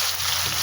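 Prawns dropped into a hot pan give a steady, close sizzle of hissing oil with faint bubbling underneath, continuous and even for a brief moment.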